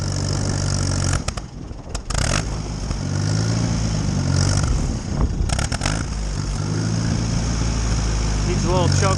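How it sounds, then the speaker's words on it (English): An Allis Chalmers WD45 tractor engine runs steadily in fourth gear with a continuous low drone and some rising and falling tones, loud and close throughout, with a few sharp knocks along the way. "let's try fourth gear. Here's fourth gear."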